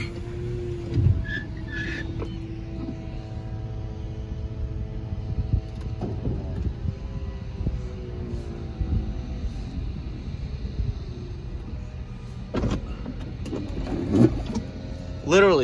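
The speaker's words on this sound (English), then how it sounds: "Now speaking of the top down, it's just one button operation." A 2011 Chrysler 200 convertible's power top lowers with a long whirring motor drone and shifting mechanical tones, ending in clicks and small thumps as it settles, while someone talks over it.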